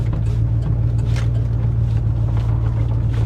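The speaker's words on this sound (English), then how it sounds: "Listen to how high that idle is." A Ford F150 pickup with an intermittent check engine light idles high, giving a steady, loud, unbroken low engine drone with no voices over it.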